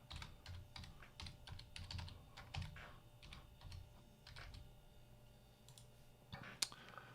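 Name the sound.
typing a password on a computer keyboard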